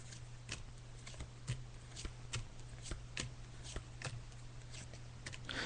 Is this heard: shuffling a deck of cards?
yes